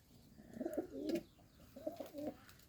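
Pigeons in a dovecote give two close, soft rolling coos, each a short burst of throaty warbling separated by a brief pause, with no talk.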